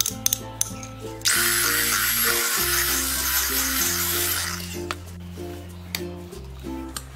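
An electric mixer whirs steadily for a few seconds as it blends mango pulp for homemade ice cream, then stops, with background music playing throughout.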